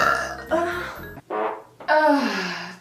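A woman lets out several long, loud, croaking burps in a row, each one a drawn-out guttural rumble separated by brief pauses.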